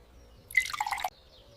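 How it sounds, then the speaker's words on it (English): Water poured into a drinking glass, a brief bubbling splash of about half a second, close and fairly quiet with no talk. "I pour myself a glass of water."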